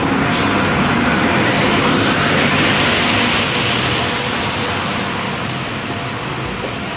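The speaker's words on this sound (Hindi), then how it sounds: "ट्रेन आ चुकी है, देख सकते हैं आप" A train arriving at Raxaul station gives a loud, continuous rumble of rolling wagons with faint wheel squeals above it, easing slightly toward the end.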